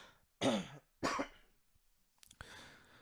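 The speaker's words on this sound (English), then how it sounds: "just clear my throat, man, because I've been talking for a while" A person clears their throat twice in short, rough bursts, followed by a softer cough-like rasp and a breath.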